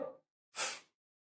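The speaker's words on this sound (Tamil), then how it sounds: "அப்படி மூக்கு சிந்தலாம்." A short nasal exhale is followed by one forceful, breathy blast of air as a person blows their nose into a towel during a breathing exercise, close and fairly quiet.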